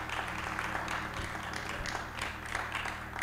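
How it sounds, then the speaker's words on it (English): A church congregation claps in praise during a sermon, a dense, steady wash of hand claps holding at an even level for the whole stretch, with a low hum underneath and no voices. "Give God a hand clap of praise."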